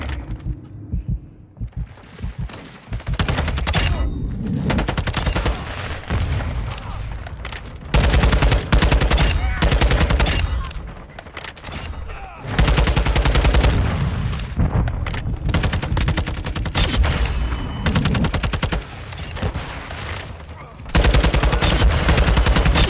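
Taq 56 rifle in the video game Modern Warfare II on the Shipment map, firing in dense rapid bursts with heavy impacts and booms, nearly continuous across the stretch with short gaps between volleys.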